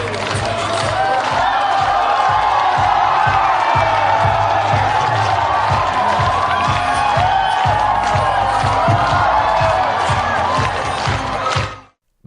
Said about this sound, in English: as thousands of Chinese Tesla employees, businessmen, and government officials cheer him on